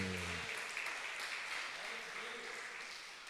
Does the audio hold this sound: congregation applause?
yes